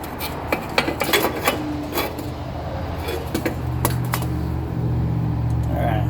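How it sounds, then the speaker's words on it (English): A Honda CR-V exhaust pipe is cut away from the front pipe with a tool, producing irregular scraping and rasping bursts up close, followed by a steady low mechanical hum. "So it's cut away from the front pipe."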